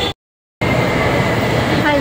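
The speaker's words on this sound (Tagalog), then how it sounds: "Ang tren papuntang Baclaran." Steady rumbling interior noise of a train bound for Baclaran, loud and continuous, starting abruptly after a short silent gap.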